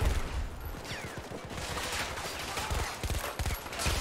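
Rapid bursts of gunfire crack in a Battlefield 2042 firefight, a dense run of sharp shots fired from the hip in quick succession, loud and close throughout.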